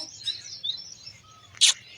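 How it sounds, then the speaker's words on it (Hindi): Birds chirping outdoors among green trees, a few thin tweets drifting in and out before one brighter, louder call near the end, no voices. "इधर उधर चिड़िया की आवाज़ सुन रही है"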